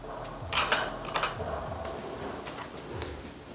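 A metal makeup spatula is wiped and dropped into a disinfection container, giving light metallic clinks and taps at close range, a few brief strikes over a quiet background.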